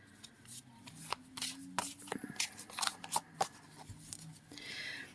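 Cards being shuffled close up, a run of crisp riffling flutters and snaps with soft handling noises in between.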